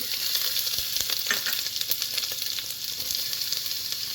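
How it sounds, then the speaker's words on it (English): Ginger and garlic sauté with whole spices in a hot pan for mutton biryani, a steady, close, bright sizzle of frying oil broken by a few soft stirring scrapes, with no talk. "After a minute of sauteing the whole spices with ginger and garlic"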